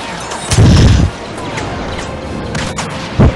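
Heavy booming shots from a vehicle turret in a blaster video game, two loud low blasts close together then another burst near the end, with crackling impacts between.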